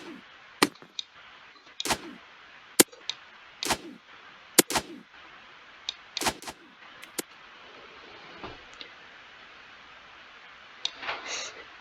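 Arrows fired and striking in the video game Ragdoll Archers, a scattered series of sharp, close cracks and thuds at uneven intervals with quieter gaps between them.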